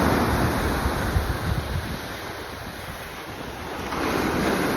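Ocean waves break and wash continuously onto a black sand beach, loud and close, with steady wind buffeting the microphone throughout and no voices.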